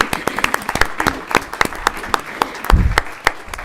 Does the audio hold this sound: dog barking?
no